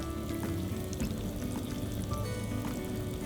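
Breaded sheepshead fish pieces frying in hot oil, a steady close crackling sizzle with bubbling pops running throughout, no voices.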